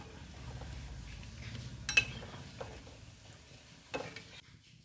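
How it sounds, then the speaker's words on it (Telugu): Moong dal fritters fry quietly in hot oil, a faint low sizzle under a few sharp clinks of a utensil turning them in the pan. "వీటిని ఇలా తిప్పుకుంటూ మంచి బ్రౌన్ కలర్ వచ్చేంత వరకు వీటిని ఫ్రై చేసేసుకోవాలి"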